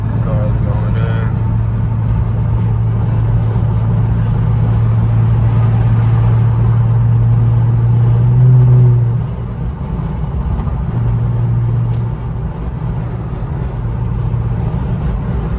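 Loud twin-turbo Infiniti Q50 cruising on a road in upstate New York, heard from inside as a steady low engine drone that swells briefly with acceleration, then settles.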